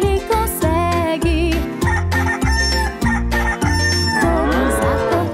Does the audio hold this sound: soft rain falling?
no